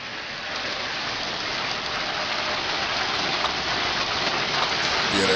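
Large hailstorm with golf-ball-sized hail, a dense steady roar of stones pelting surfaces, building slightly louder over several seconds with no talking.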